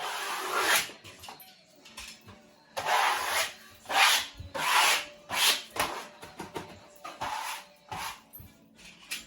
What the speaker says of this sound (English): Nice sharp knife. Trim your top off, and then just on the bottom bit.